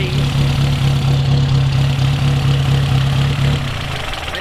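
The four-cylinder 1100cc engine of a 1929 Riley 9 trials car idles steadily nearby with a low, even hum and faint rhythmic knock, settling slightly quieter toward the end.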